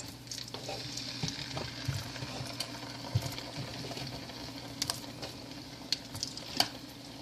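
Hot oil sizzles steadily as banana pieces fry, with occasional soft clinks and stirring sounds; no talking.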